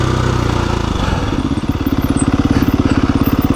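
A KTM 350 EXC-f dual sport motorcycle rides slowly over a flat, rocky track, its single-cylinder engine thumping close and loud in a steady pulsing chug that grows more distinct after a brief shift in tone.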